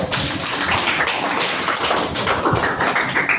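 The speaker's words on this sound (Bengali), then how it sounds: "সবাই জোরে একটা হাততালি দাও" Children in a classroom clap their hands together loudly, a dense burst of overlapping claps running steadily throughout without any speech.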